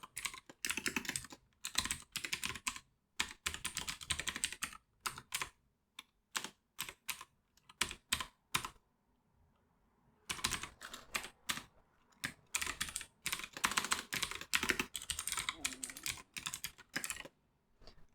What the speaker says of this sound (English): So we can just type this out quickly enough.